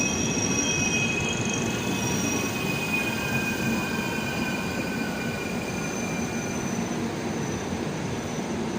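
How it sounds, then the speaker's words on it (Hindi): Passenger train pulling out of New Delhi, a steady rolling rumble of wagons with high, drawn-out wheel squeals, heard from on board and continuous throughout. "फाइनली 11:04 पे हमारी ट्रेन यहाँ से डिपार्ट हो रही है।"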